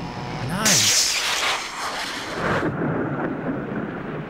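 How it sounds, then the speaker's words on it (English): Thunder and rain in the video game Limbo: a loud rolling thunderclap swells early and rumbles on over a wash of rainfall, which then thins to a softer steady patter. "Did I seriously just make it rain?"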